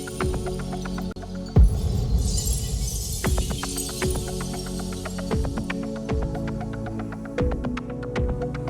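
Glass-shattering hits layered with a deep kick drum in a cinematic sound design for an iPad Pro ad, built in Logic Pro: a crash near the start, then booming, regularly spaced kicks with sharp crackly transients and a low hum beneath.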